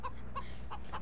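Chickens in the video game Farming Simulator 2013 cluck in four short, fairly close bursts over a steady low game background, with no talk.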